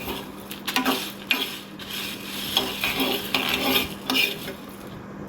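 Garlic cloves and green chillies fry in a pan for a moringa leaf spice powder. A soft sizzle runs under frequent metallic scrapes and clinks of a stirring utensil, close by and without speech.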